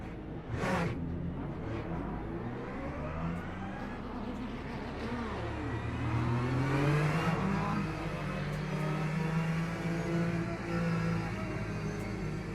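A racing car engine in a racing video game revs and climbs through the gears, pitch sweeping up and down, loud and sustained.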